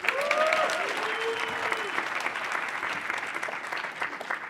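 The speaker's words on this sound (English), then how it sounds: "Let's give her another round of applause." An audience at a convention planning workshop gives presenter Debbie another round of applause: continuous, moderately loud clapping that runs throughout, with a brief voice near the start.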